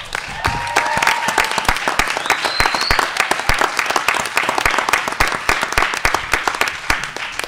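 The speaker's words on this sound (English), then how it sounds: "So can I ask for that round of applause?" Round of applause from the audience at a school board of education meeting, loud and close, individual claps clearly distinct within the crowd, sustained throughout with a faint voice or tone briefly audible near the start.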